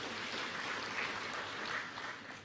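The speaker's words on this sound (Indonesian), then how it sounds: "Tepuk tangan untuk Pak Gubernur niki." Faint, distant applause from an audience honouring a governor at a public address in Bali, a soft continuous patter of clapping with no voices over it.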